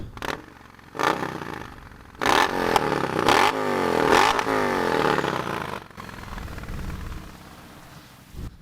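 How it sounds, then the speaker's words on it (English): A Triumph Bonneville T120 engine fitted with a Tec 2-into-1 exhaust with unequal-length headers gives a deep, uneven exhaust note, rising in several loud throttle blips and revs over a steady idle, with no voices. "So you can kind of hear we've got a little bit of a different exhaust note. It's very deep now."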